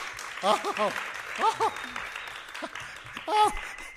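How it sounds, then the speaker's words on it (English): Applause from assembled fans at a live radio-play performance, a low steady clapping bed running beneath several speaking voices that stand out over it. "who give him an uproarious applause"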